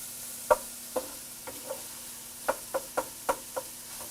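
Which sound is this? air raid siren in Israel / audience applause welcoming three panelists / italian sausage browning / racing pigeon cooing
italian sausage browning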